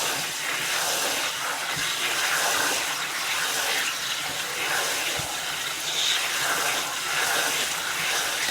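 Water rinses freshly harvested garden produce in a bowl, giving a steady, close rushing wash that stays loud and even throughout with no pauses.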